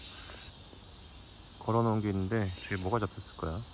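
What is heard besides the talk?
cicadas singing in summer by Soyang River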